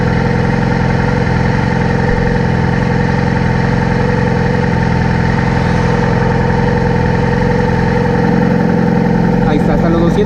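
Yamaha R6 motorcycle engine idling while standing still, a loud steady, close drone throughout, with a voice speaking over it.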